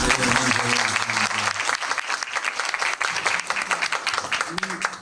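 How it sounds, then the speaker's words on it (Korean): An audience bursts into loud applause for director Ryoo Seung-wan at a film screening Q&A, dense clapping that swells at the start and continues in uneven waves, with a voice briefly heard over it. "유승환 감독님 큰 박수 부탁드리겠습니다"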